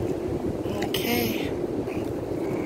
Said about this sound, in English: Sorry, it's real windy out here.